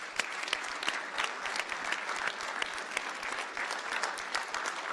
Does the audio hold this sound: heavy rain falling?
no